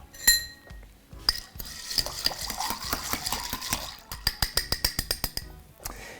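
Bar spoon stirring a Queen's Park Swizzle cocktail over crushed ice in a glass, close up: steady scraping and clinking build through the middle, then end in a run of sharp, evenly spaced taps.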